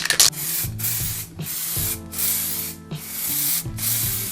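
Spray paint hisses onto a Honda Civic EF sedan bumper in close, loud bursts, roughly four long sprays separated by short pauses, with a faint mechanical hum underneath.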